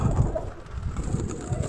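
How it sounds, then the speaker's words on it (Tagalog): A racing pigeon coos softly in a loft during a derby race season, low murmuring calls faint beneath steady background noise. "Ibon."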